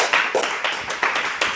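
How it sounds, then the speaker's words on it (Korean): Church congregation applauding during a Saturday morning worship service, a steady patter of many hands with small swells, moderately close and fairly soft. "박수 한번 치세요."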